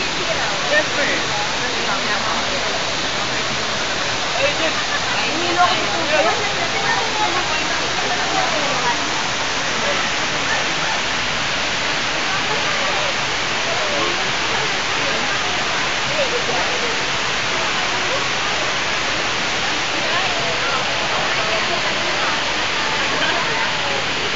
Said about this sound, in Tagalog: ang running waterfall